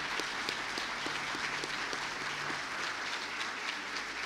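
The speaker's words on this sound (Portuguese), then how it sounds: "Vamos aplaudi-los em nome de Jesus." A church congregation applauds a visiting couple welcomed back from Canada, steady dense clapping filling the room with a low hum beneath, with no voices over it.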